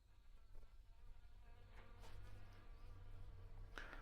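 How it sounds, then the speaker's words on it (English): A bee buzzes around indoors, a steady insect drone close by with low background hum and a few brief louder passes as it moves through the room. "I got a bee in my room."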